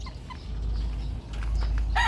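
Bulik gamefowl chickens, stags and pullets, cluck and call faintly in a yard under a low rumble of background noise, with a louder cluck at the very end.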